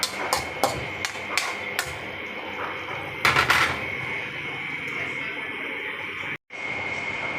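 A lid clatters onto a cooking pot while lumpiang togi is being made, a series of sharp metallic knocks and clinks, loud and close, followed by quieter kitchen background.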